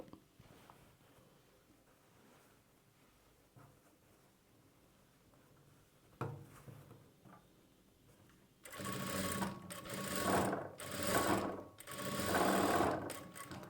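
A sewing machine stitches a churidar slit, starting after a stretch of quiet handling noise and then running close in several loud, rapid whirring bursts.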